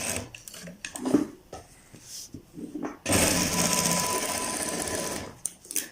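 Sewing machine stitching a zipper shirt collar, short stop-start bursts of needle rattle and then a steady loud run of several seconds, close by.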